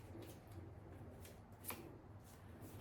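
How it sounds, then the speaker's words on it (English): Deck of tarot cards being shuffled, soft riffling and flicking very faint and close, with one brighter snap partway through and no talk. "I'm going to give it a bit of a good shuffle"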